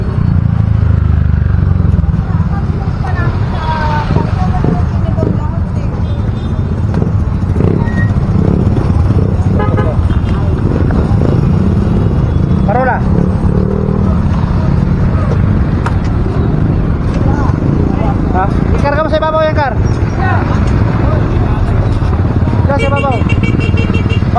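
Motorized tricycle running along a busy city street near Recto in Divisoria, Manila, its engine droning steadily throughout with traffic clatter and people talking nearby.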